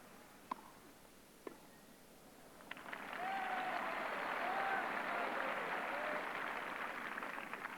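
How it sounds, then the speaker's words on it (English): A crowd at a 1977 Wimbledon women's semi-final breaks into loud cheering and sustained applause after an accurately placed serve. A few sharp claps come first, then a dense, steady roar that carries on to the end. "Big patriotic cheer for a very accurately placed service."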